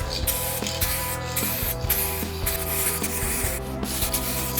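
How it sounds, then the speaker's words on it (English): Glitter spray paint hisses from an aerosol can onto a motorcycle near the backbone of the frame, in a run of short repeated bursts at close range, with no talking. "So as I'm spray painting it"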